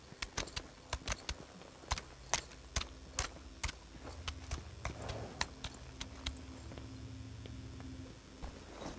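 Horse hooves clip-clop in a steady walking rhythm in the Equinox Homecoming video game. Each distinct, crisp hoofbeat stands close and fairly loud over a low ambient hum, with no talking.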